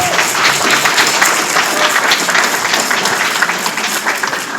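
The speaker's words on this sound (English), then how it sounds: "A big round of applause" An audience at a county commission candidates forum gives young people a round of applause, a steady, loud wash of many hands clapping for several seconds.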